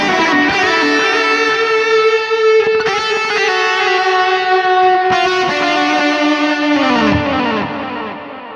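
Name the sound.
guitar through Mesa Boogie Mark IIC+ amp plugin with reverb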